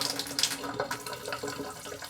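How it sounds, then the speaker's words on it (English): Water runs and drains from an opened Moen kitchen tap after the main supply is shut off, a steady splashing trickle with small gurgles, close and fairly loud throughout. "water's draining out of this tap right now"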